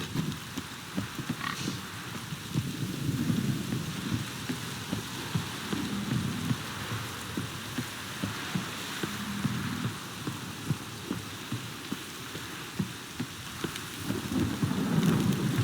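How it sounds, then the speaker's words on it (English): In The Witcher 3: Wild Hunt, steady heavy rain pours throughout with low rumbles of thunder rolling underneath, a continuous dense wash of storm noise. "This downpour's a bastard"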